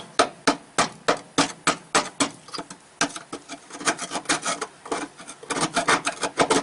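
Rapid scraping and pecking strikes on a rusty metal fuel pump locking ring on a 1999 GM pickup, close and rhythmic at first, then denser and rasping as rust flakes off, with no voices.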